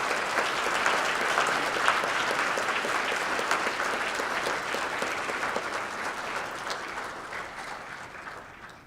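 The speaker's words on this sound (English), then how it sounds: "Please give him a round of applause." Sustained applause from a conference audience at a plenary session in Tucson, dense steady clapping that fills the room and slowly tapers off toward the end.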